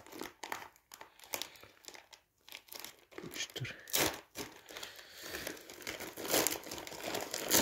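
Plastic bag packaging for a Sony Ericsson K600i phone is crumpled and torn open close by, with irregular crinkling and tearing bursts that grow busier toward the end, and someone speaks briefly.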